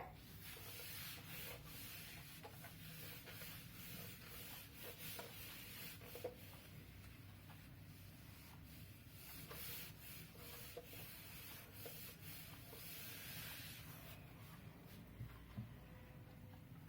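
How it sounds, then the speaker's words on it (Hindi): Steady, close rubbing on a paper worksheet continues without pause, a soft dry scraping with no talking. "ये रब कर रही हूं मैं."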